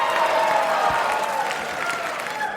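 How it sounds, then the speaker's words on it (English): Sustained applause from a live podcast audience fills the room, a dense steady patter of many hands clapping that tapers slightly toward the end. "I don't need your pity claps."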